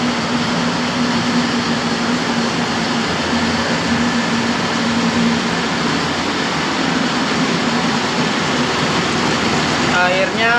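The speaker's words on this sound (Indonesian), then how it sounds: "Saya juga menambahkan kipas karena di sini agak gerah." An electric fan runs inside a homemade, low-budget spray booth for painting, giving a steady, close whirring hum with a faint tonal drone that holds level the whole time, alone without talk.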